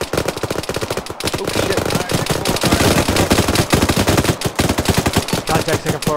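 Dense, sustained automatic gunfire in the ShackTac Arma military game, rapid loud bursts hammering almost without pause from start to finish, with shouting voices mixed in.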